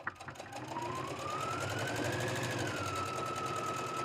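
A sewing machine runs steadily, stitching a quarter-inch seam on a drawstring bag with a fast, even mechanical patter and a soft whirring hum throughout.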